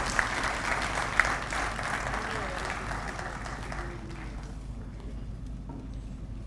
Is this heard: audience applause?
yes